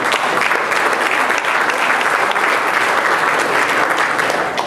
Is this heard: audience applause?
yes